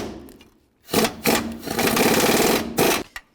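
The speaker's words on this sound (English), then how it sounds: "Take this nut off right here, use a 21 millimeter socket." Ratchet with a 21 mm socket removing an engine mount nut on a 2006-2011 Cadillac DTS: a loud, close, rapid buzzing clatter in sustained bursts with short pauses between.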